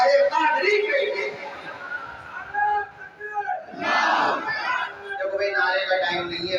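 A large crowd at a turban-tying ceremony in an Islamic seminary chants religious slogans in loud, sustained unison, the voices swelling in a strong burst near the middle and rising again toward the end.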